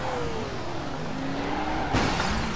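A race car speeds along in ToCA Race Driver, a steady loud engine whine with shifting pitch and a brief crash-like burst near the end, no talk.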